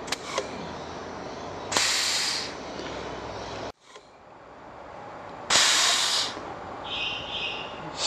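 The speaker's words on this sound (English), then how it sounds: "Valve operates, opens, visual indicator at the top." Pneumatic 316 stainless steel angle seat valve actuating twice, each time with a sharp burst of air hiss that cuts off abruptly, with a steady background hiss between cycles.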